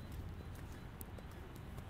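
Horse hooves clip-clop in a quick, regular rhythm, fairly faint and steady, over low background rumble.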